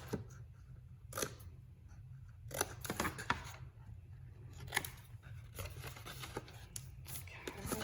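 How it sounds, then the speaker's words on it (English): Scissors snip through paper tabs on a Stampin' Up! Halloween treat box, a string of short, crisp cuts at irregular intervals over a low background rumble, close and fairly quiet. "I want to cut just a little bit off of each tab"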